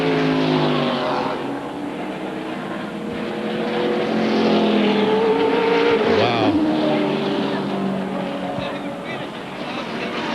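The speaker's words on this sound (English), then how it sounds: "More cars spinning, and they're still crashing." ARCA stock cars race at Talladega in the 1999 Winn-Dixie 300 as several spin and crash, a constant loud engine roar with swelling and shifting tones, while a commentator talks over it.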